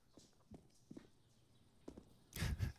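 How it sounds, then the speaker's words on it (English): Footsteps in Counter-Strike on the Inferno map during a professional IEM Katowice 2021 match, a few soft thuds spaced irregularly, then a louder cluster of scuffing steps near the end, with no talk over them. "Hearing some footsteps"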